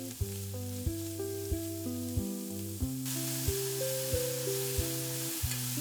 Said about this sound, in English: In goes the buffalo mince. Spread it out and give it time to brown.